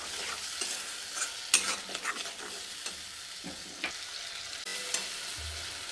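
Tomato paste frying in a pan while being stirred, a steady sizzle with scraping spoon strokes and a few louder clatters against the pan, close and clear with no talking.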